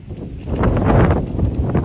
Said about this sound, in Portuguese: Não sei se vocês estão escutando por causa do vento